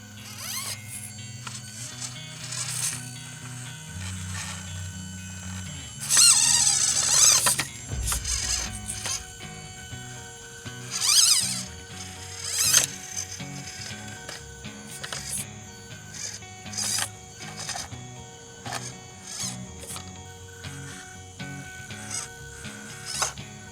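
An SCX24 C10 RC crawler drives along while its loose bumper and body rattle, a close mix of plastic clatter and squeaky motor whine rising and falling in irregular bursts without talk.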